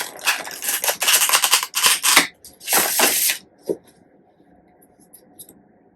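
Tarot cards being shuffled by hand give quick bursts of papery riffling and flapping in several bunches, close and crisp, then fade to a quiet rustle and a few small taps.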